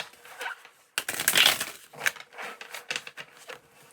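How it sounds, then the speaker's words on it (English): Tarot cards are shuffled by hand, a run of crisp papery riffles and slaps in quick irregular bursts, close and fairly loud, with no talking. "I will just need to shuffle a little bit."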